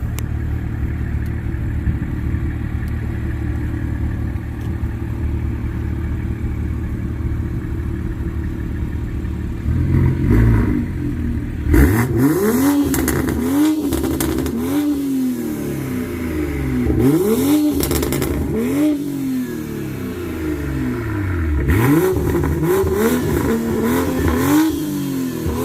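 A custom 2021 Toyota Supra 3.0 Premium revs loudly and close up, starting from a steady idle and then climbing in repeated rising and falling engine sweeps.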